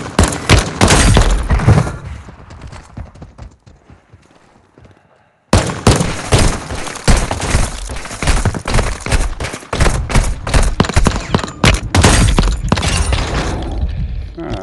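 Rapid bursts of gunfire in the video game Warzone Mobile, loud and dense, with booms and impacts. They fall to a brief lull, then resume in heavy, continuous volleys.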